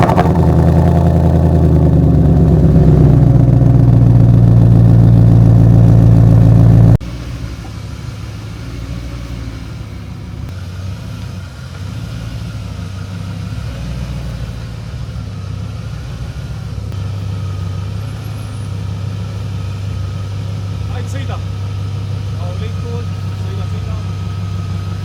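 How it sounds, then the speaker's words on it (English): BMW E30 fitted with a 4-liter V8 in place of its original small four-cylinder idles loudly and close with a deep, steady throb for several seconds, then drops abruptly to a faint low rumble. "This one's got a 4-liter V8 under the hood."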